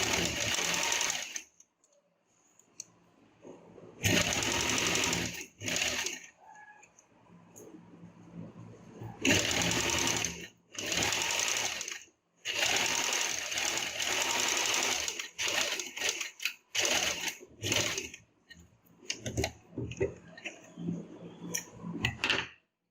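A sewing machine stitches a fabric face mask in loud, whirring bursts of several seconds each, separated by short pauses, close up, with no voices over it.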